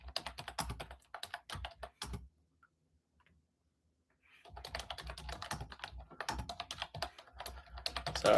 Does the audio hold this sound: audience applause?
no